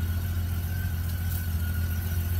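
A car engine idles during warm-up with a smooth, steady low hum and faint mid-range whine, constant and close, with no talking.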